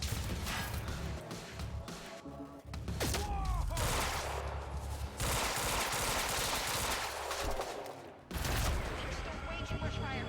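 Dense gunfire in the shooter game Quantum Break: sustained bursts of rapid automatic fire and heavy impacts, nearly continuous and loud, with a voice talking over parts of it.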